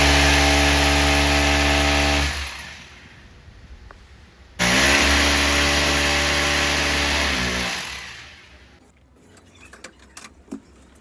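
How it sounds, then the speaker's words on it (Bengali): A power drill bores small holes in a wall to mount an air conditioner. It whines loudly and steadily, stops, starts again, then winds down, followed by faint clicks and knocks. "ছোট ছোট কয়েকটা ড্রিল করছে এসিটা বসানোর জন্য"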